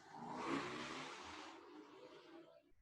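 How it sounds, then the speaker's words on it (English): Two loud motorcycles pass by outside a house, a muffled engine roar that swells quickly, peaks, then fades away over a couple of seconds, heard faintly from indoors. "that was two loud motorcycles going by my house"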